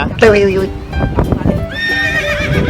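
A horse whinnies loudly and close by at a beach, with hooves clip-clopping as it moves, while voices talk over the sound throughout.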